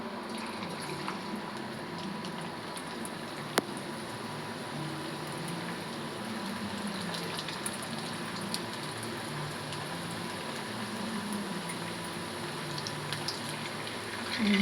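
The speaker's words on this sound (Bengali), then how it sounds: "আমি এবার আলুগুলো ছেড়ে দেবো" Potato fries for French fries frying in hot oil make a steady, even sizzle and bubbling that holds for the whole stretch, close and moderately loud, with no talking.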